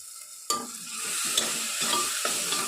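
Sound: tomatoes and green chillies frying in pan for mutton curry

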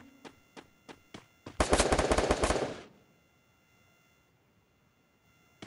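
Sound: gunfire in Free Fire video game

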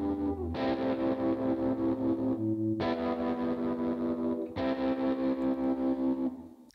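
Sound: guitar with long reverb effect

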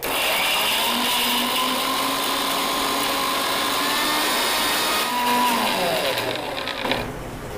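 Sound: mixer grinder grinding onion chutney without coconut

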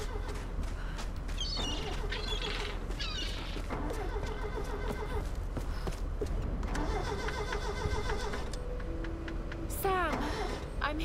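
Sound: car engine starting in the video game Tomb Raider

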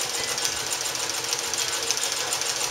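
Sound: Sewmor sewing machine sewing leather over a thick seam

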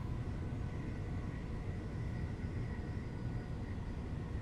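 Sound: airplane passing overhead

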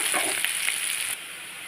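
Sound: onion and garlic frying in pan

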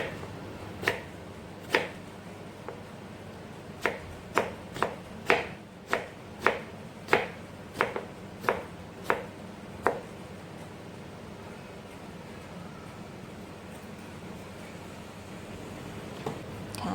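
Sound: crisp fresh vegetable being chopped

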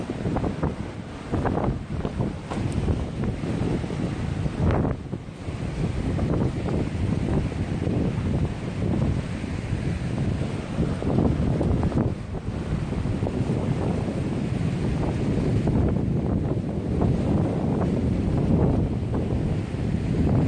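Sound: strong wind at a seaside

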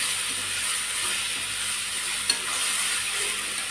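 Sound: frying chukkakura (sorrel leaves) in pan

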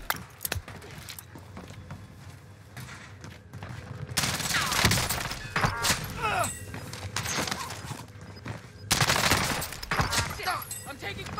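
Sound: gunfire in Warzone Rebirth Island video game

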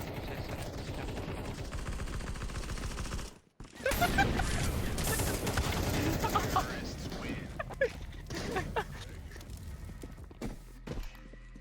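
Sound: shotgun fight in Counter-Strike 2 video game

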